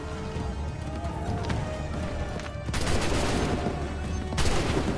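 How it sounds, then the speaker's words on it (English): Musket volleys crack out on a battlefield in the Assassin's Creed 3 video game. Scattered sharp reports ring over a busy din of combat, and a louder ragged burst comes near the middle, followed by another later on. "Open fire."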